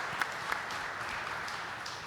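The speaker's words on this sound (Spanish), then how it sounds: "un aplauso, sí." Audience applauding at a federal summit panel on bioprospecting and biotrade, a steady wash of clapping from a moderate-sized crowd that holds evenly for about two seconds, with a couple of brief sharper claps near the start.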